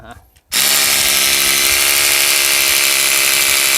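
After a moment of quiet, a power drill starts boring into stony garden ground while an automatic watering system is being installed. The motor holds a loud, steady high whine right up close, and someone talks over the start.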